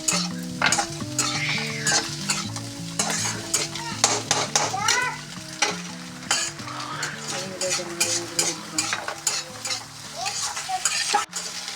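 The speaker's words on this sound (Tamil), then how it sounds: "இப்போ வந்து முட்டை நல்லா பொரிஞ்சிருச்சுங்க கைஸ்" Egg frying in a pan, a steady close sizzle running throughout with clinks of a utensil stirring and scraping against the pan, no voices.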